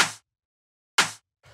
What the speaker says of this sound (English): So you can hear it's just like a really punchy, fat-sounding rim shot.